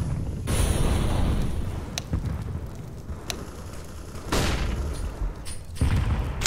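Grenade and incendiary explosions in Counter-Strike on the Inferno map: several sharp bursts and booming blasts, spaced a second or two apart, with crackling noise between them and no talk.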